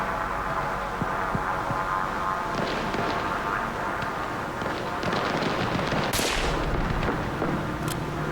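Sporadic gunshots crack across a wide battlefield in Arma Reforger, single reports scattered over several seconds, some distant and muffled, one sharper and nearer, set against a constant low ambient rumble.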